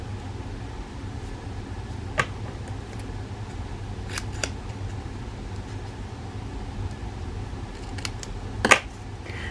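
A few sharp scissor snips cut through paper stock during a card-stamping craft session, isolated crisp clicks spaced several seconds apart over a steady low room hum, with no talking.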